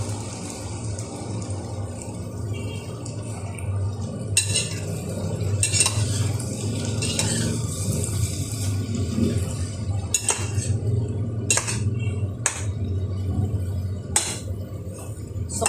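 Okra stirred in a pan while cooking, with steady scraping and clinking of a utensil against cookware over a continuous low sizzle, several sharper clanks scattered through.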